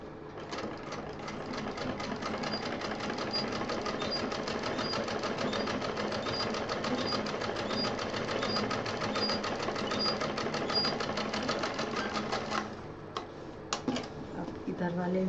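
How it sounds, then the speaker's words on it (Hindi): A sewing machine stitches a fabric pouch in a long, steady, fast run of rapid needle clatter, close and loud, slowing and stopping near the end with a few clicks. "इसको इस तरह से पलट के सिलाई दे देनी है।"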